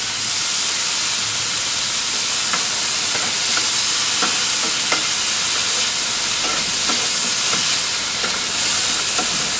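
A whole tomato sautéing in a hot pan gives a steady, close hiss and sizzle, with scattered small pops and crackles throughout and no talking.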